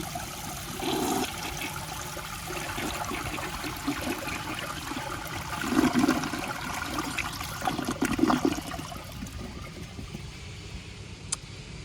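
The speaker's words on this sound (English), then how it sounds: "Okay, now that has a pretty good flush." A 1977 Universal-Rundle Citation toilet flushes in a steady, nearby whoosh of rushing water with gurgling surges, running for about twelve seconds before tapering off.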